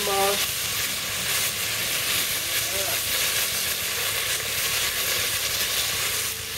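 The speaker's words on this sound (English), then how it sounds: "we got our bacon rendering down" Bacon renders in a pot for a Sriracha beer chili, giving a steady, close frying sizzle and hiss that runs unbroken throughout at an even level.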